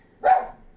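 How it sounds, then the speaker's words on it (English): A single sharp dog bark sounds close by in a home kitchen, short and loud, standing alone against quiet. "I'm sorry for my dog."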